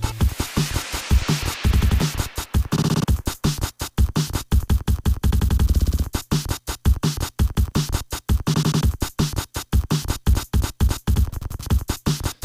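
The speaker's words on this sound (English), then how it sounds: "I'm going to switch to just a little drum break that I like to improvise and make little, kind of like drum fill, drum solo parts" Improvised drum break with fills and solo-style rolls programmed in Ableton, a dense run of rapid punchy hits with stuttering repeats and short gaps, steady and loud throughout with no voices.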